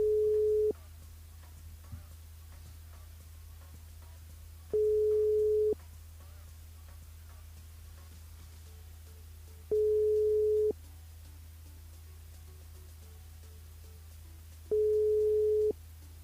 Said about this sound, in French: Alors, le temps comique compose le numéro de Henri.